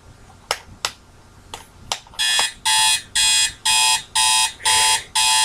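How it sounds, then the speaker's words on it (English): A few sharp clicks, then an alarm clock going off in loud, regular beeping bursts, each about half a second long and repeating steadily, close and alone. "Now the alarm was still going off."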